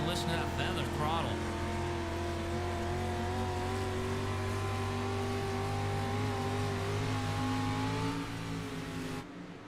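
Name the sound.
race car engine throttling during race laps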